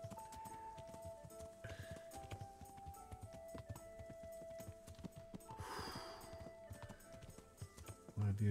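Horse hooves clip-clop in the game Kingdom Come: Deliverance, a steady rhythmic patter of footfalls under game sounds, with a louder thump near the end.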